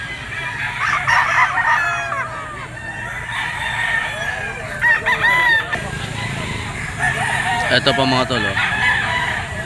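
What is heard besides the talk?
bull stag gamecock crowing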